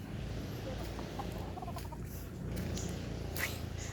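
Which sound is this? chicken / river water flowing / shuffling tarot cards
chicken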